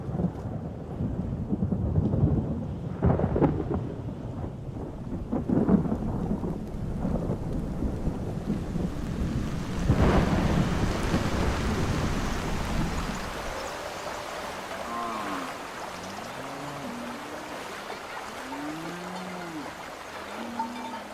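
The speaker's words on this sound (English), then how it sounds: "The rains come gushing down, and in great abundance." Heavy rain pours and thunder rumbles loudly across open land in Surma country, then the downpour cuts away and chirping, warbling animal calls take over.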